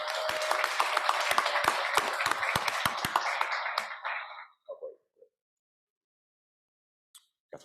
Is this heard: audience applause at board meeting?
yes